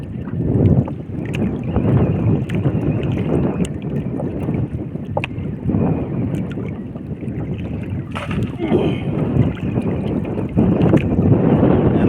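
Gusty wind buffets the microphone on a small boat at sea during fishing, coming in uneven rumbling surges with brief sharp knocks and splashes throughout, no talk.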